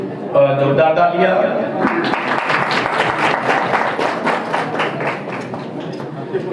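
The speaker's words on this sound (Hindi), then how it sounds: "जोरदार तालियां।" Loud applause at a government senior secondary school annual function in Chamba, Himachal Pradesh: a crowd of many hands clapping steadily for several seconds right after a voice on a microphone.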